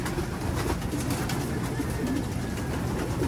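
Racing pigeons coo softly at their loft, the calls repeating under a constant loud hiss of background noise.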